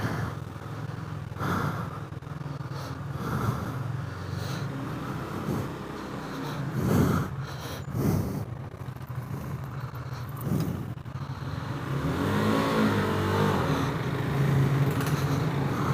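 A KTM Duke motorcycle engine running low on oil, revving and rumbling steadily near the rider, with rough surges and a louder, grinding swell toward the end.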